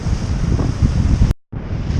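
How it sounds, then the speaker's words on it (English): Waves splash into a rock pool on a rocky shore at Sliema, a loud, steady wash of water with wind noise across the microphone, broken by a short dropout of silence before the surf resumes. "we've got a bit of a rock pool, some splashing waves"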